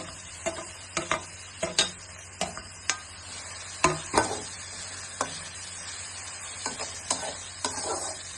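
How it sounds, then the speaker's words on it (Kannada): Shredded cabbage stir-fries in a pan for baby corn mushroom Manchurian, a soft constant sizzle broken by sharp, irregular spatula taps and scrapes against the metal, close by and fairly quiet, no voices. "ಸ್ವಲ್ಪ ಹಸಿ ವಾಸನೆ ಹೋಗೋವರೆಗೂ ನಾವು ಫ್ರೈ ಮಾಡ್ಕೋಬೇಕು"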